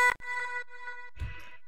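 Short pitched vocal loop in a music production, played dry without the crossbeat effect: a brief sustained tonal phrase with a soft noisy burst near the end, no talking.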